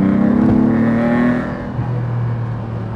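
A TVR Tuscan S straight-six revs hard while driving, a loud, rising engine note that drops off midway and settles into a lower, steady drone, with no talking.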